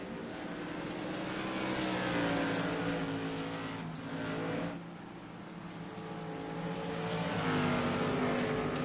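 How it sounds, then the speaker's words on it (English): Race cars accelerate back to green at Five Flags Speedway, a dense roaring engine drone swelling and fading as the pack passes, loud and continuous without talk. "the pace car peels off and we go back to green"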